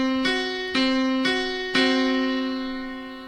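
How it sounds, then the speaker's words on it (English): Piano-like notes forming a tritone (augmented fourth): two single notes struck one after another, then both sounded together twice, ringing out and fading. "we have an augmented fourth, which we call a tritone"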